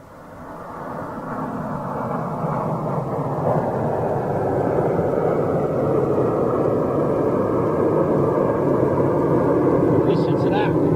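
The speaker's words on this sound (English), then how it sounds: "Now here's your MD-88 taking off, by the way." A Delta MD-88 jet airliner roars broadly as it takes off, a loud and steady engine rumble that swells over several seconds. It is heard from a distance outdoors.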